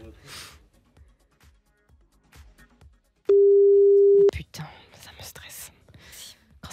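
A phone call waits for an answer, and a steady electronic tone holds for about a second between soft whispering and breathy voices, followed by rustling and brief talk.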